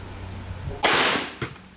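.44 Magnum hollow point round fired into helmets: one sudden loud broadband crack followed by a short decaying roar, then a second smaller impact-like burst shortly after, with no talk.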